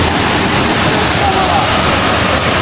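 Poço do Índio, the first waterfall of a circuit in Pernambuco, pours in a steady, loud broadband roar of falling water that stays constant and close throughout.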